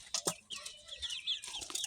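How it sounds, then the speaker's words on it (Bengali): Chickens in a coop with iron wire grille doors cluck and squawk up close in quick agitated bursts, several birds overlapping as they scuffle. "দেখেছ মুরগি? এরা কি মারাপিট করে কি বলবো।"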